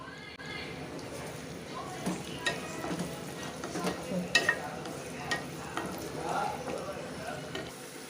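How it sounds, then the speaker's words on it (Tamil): Shallots and curry leaves fry in hot oil for a prawn gravy, giving a soft, continuous sizzle with occasional spoon scrapes and stirring clinks, fairly quiet and close. "சின்ன வெங்காயமும் கருவேப்பிலையும் சேர்த்துக்கிறேன் நான்."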